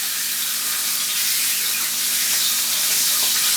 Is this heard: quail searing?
yes